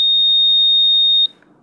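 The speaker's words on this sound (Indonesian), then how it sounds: "Buzzer akan berbunyi beberapa saat ya." A motorcycle's buzzer sounds one steady, loud, high electronic tone for just over a second, switched on with the ignition while its ECM ID is renewed without a simulator, then cuts off into quiet background hum.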